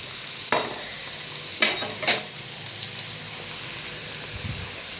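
Chopped onions tossed into a frying pan and stirred, a steady hiss of frying with a few sharp scraping clatters early on, close and fairly loud, no voices.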